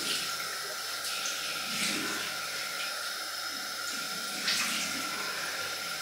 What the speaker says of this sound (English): Cold water in.